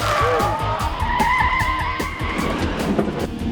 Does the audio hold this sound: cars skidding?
yes